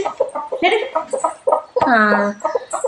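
Chickens and small chicks cluck and cheep close by in quick overlapping calls while a person talks over them.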